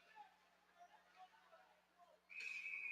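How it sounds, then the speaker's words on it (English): A referee's whistle at a varsity high school ice hockey game between Grand Rapids Christian and Manistique, one loud sustained blast entering near the end and cutting over arena crowd noise and a commentator's voice. "A whistle."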